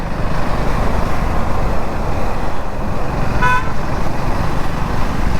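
A KTM Duke 390 Gen 3 motorcycle rides in fourth gear, giving loud, steady engine and road noise throughout, with a brief horn toot near the middle.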